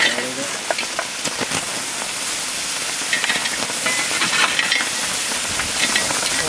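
Red-hot rocks dropped into water in a ground pit, throwing off loud, dense hissing, bubbling and steam that build steadily, with voices faintly in the background.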